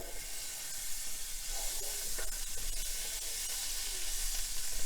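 Butter sizzling in a hot pan alongside beef stir fry with red bell peppers, a steady close hiss and crackle that builds slightly toward the end.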